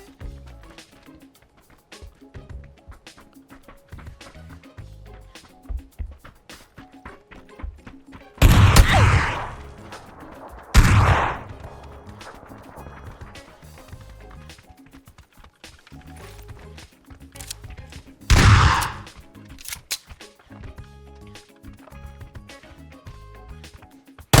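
Several loud bursts of PUBG gunfire, clustered in three short volleys over a background of faint game ambience and movement.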